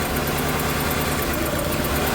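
A car engine idles roughly with a missing cylinder, its uneven, pulsing low rumble repeating steadily up close, alone without talk.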